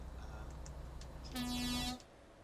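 A loud, deep truck air horn in a trucking video game blasts once for about half a second over a steady engine rumble.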